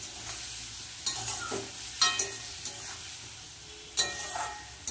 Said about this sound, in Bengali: একটু ভালো করে কষিয়ে তারপরে জল দেব